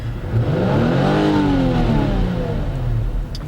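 A Mazda CX-9 with a 3.7 V6 (277 hp) and a hydraulic automatic gearbox gives a single loud, close rev, rising smoothly to a peak and falling back to idle, with no voices over it.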